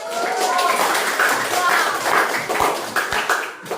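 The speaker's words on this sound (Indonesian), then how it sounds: "Mari kita beri aplaus untuk kelompok 1" Applause for the first group at an Arabic-language teacher training session, a dense crowd of hands clapping steadily for nearly four seconds before thinning into scattered claps at the end.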